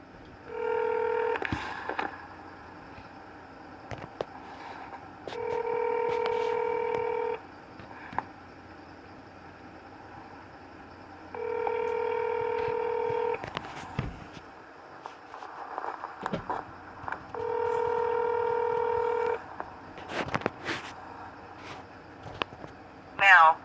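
Telephone keypad tones sound in four evenly spaced bursts of steady dual-pitch beeps, each a couple of seconds long, separated by quiet gaps with faint room noise, as a call is dialed; no one speaks.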